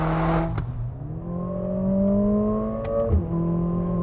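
A 2025 Mercedes-AMG CLA 45 S with a handcrafted 2-liter turbo four-cylinder revs steadily, its engine note climbing in pitch, then briefly dropping as if shifting gears before climbing again; a strong, continuous cabin drone with no talk.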